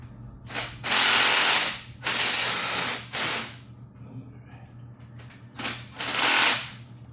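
Ratchet wrench turning an 8mm bolt on the drive shaft of a 2011 GMC Acadia, loud close bursts of rapid clicking in several separate pulls with quiet gaps between.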